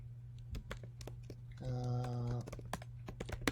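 Quick, irregular keystrokes on a computer keyboard click softly and close by, pausing briefly while a faint electronic hum sounds midway, then resuming.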